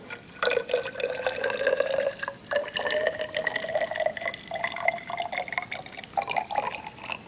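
Water pours steadily into a narrow glass graduated cylinder in a lab, the pitch rising as it fills, with a few pauses and splashy drips.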